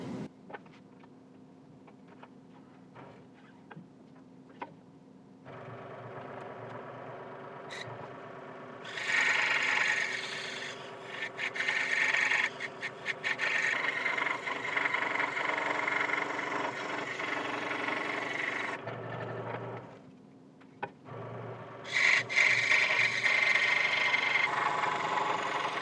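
A saw cuts decorative curves into a wooden serving tray. A steady motor hum runs throughout, with louder, grittier stretches as the blade bites into the wood and a short lull partway through.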